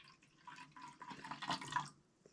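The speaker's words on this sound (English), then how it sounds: "I might add just a little bit more water." Water trickles and splashes briefly into a container of coffee taffy from a 1951 Korean War B-Unit ration, a soft, close pour lasting under two seconds before fading out.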